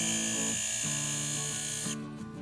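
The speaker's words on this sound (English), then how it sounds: "I do this sharpening on the same grinding wheel, and I hold the drill at about 45 degrees" Metal drill bit held at about 45 degrees against a grinding wheel, a steady high whine with short grinding pulses as the bit is pressed and lifted, ending as the wheel contact stops.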